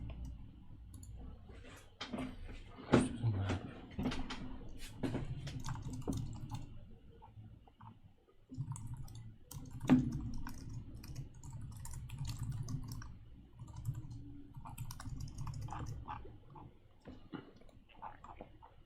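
Computer keyboard typing while writing code: bursts of quick, light key clicks with brief pauses and occasional louder taps, close and fairly quiet, with a short silent gap midway.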